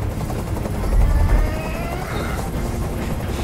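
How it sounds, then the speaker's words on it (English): A hovering helicopter in the video game Detroit: Become Human gives a steady, loud rotor drone with a low throbbing pulse, swelling briefly and then holding constant throughout. "I can't stand that noise anymore! Tell that helicopter to get out of here!"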